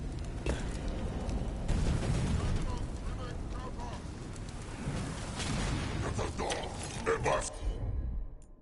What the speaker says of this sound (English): Cannon fire! Get clear!